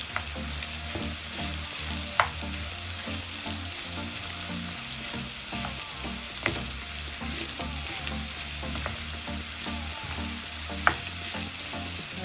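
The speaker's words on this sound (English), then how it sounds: "I'll allow it to fry for about 3 minutes" Mushrooms fry steadily in a pan, part of a potato pie with kidney, giving a continuous close sizzle with a few sharp clicks of utensil against the pan and no talking.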